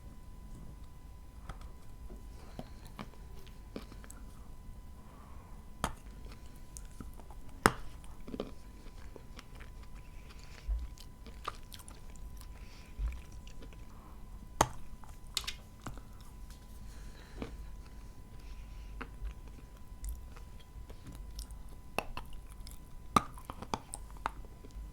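Edible chalk pucks bitten and chewed close to the microphone give quiet, repeated crunches and grinding over a long stretch, with occasional sharper snaps of biting.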